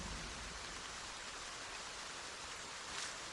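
Steady rain falls as a dense, even hiss of drops, loud and constant, with a brief brighter splash near the end.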